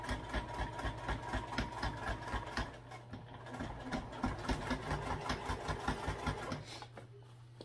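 Sewing machine stitching a half-inch seam on a backpack, a steady fast mechanical chatter running continuously with a brief slowdown midway, close and alone.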